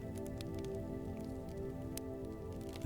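Steady rain falls in a quiet nighttime setting near a medieval-style inn, a soft continuous patter with a few faint drips, low and even throughout.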